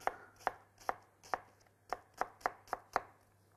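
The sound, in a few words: knife chopping onion into coarse small cubes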